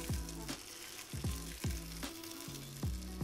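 Pieces of food caramelise in a tagine pot, a continuous close frying sizzle broken by several sharp, regularly spaced clanks or scrapes, with no speech.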